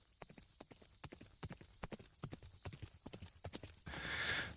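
A horse walks with a steady clip-clop of hooves, crisp and close, in an even rhythm of hoofbeats, then ends under a brief rush of noise.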